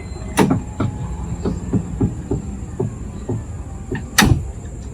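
A Toyota Vellfire X power sliding door opens by remote with a run of sharp clicks and mechanical knocks, close and fairly loud, capped by a louder latch clunk near the end, no talk.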